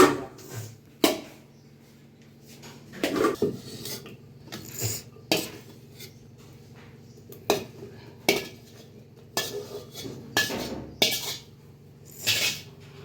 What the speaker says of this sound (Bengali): এই যে কড়াইটা ধুয়ে জাস্ট একটু জল দিয়ে দেবো